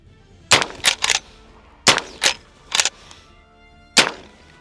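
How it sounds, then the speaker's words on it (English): Civil War-era lever-action rifle firing .45 Long Colt, seven sharp, loud reports arriving in quick pairs and singles, close by with brief gaps between shots. "pop off 2 rounds, 1 to the head"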